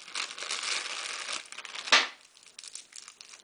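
Jolly Rancher candy wrappers crinkling inside a purse zip pocket, a continuous close rustle with a sharp louder crunch midway before trailing into lighter crinkles.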